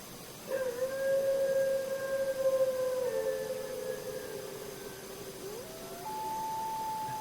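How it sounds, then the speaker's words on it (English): Long, sustained wolf howls rise and hold, gliding slowly in pitch with a second voice joining in; distant and mournful over a quiet background at a Canadian lake in winter. "listen to the loons calling and the wolves howling."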